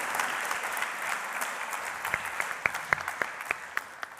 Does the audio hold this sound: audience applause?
yes